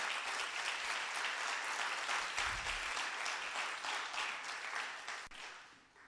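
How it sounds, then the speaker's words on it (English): A church congregation claps together in sustained, dense applause that fills the room, holding steady and then tapering off toward the end, with no talking over it. "Come on, big clap for Jesus now."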